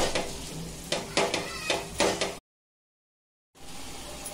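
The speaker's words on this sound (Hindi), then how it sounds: "मावे को पूरा पिघाल देंगे बारीक गैस पे।" Mawa (khoya) melts in a pan over a low gas flame, giving a steady soft sizzle with a few scraping stir strokes, broken by a silent gap before the sizzle returns; nobody speaks.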